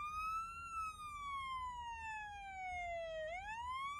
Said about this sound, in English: sounds like a just run-of-your-mill police siren